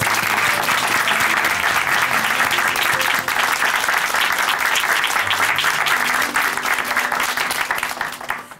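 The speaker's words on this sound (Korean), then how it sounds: "박수로 응원해 드리겠습니다." A church congregation at a testimony program breaks into loud, sustained applause, a dense and even roar of clapping that carries steadily for several seconds before tapering off at the end.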